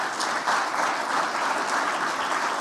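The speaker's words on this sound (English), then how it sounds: "you could give him a round of applause and say thanks." Steady applause from a large audience at an energy policy summit, a dense continuous wash of clapping at even loudness with no voices over it.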